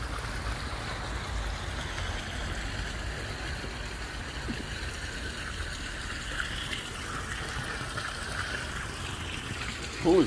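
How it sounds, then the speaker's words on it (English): Steady rushing, splashing water from a garden water feature close by, a continuous broadband wash with a low rumble underneath, unbroken for the whole stretch. "He's got a really nice loud water feature,"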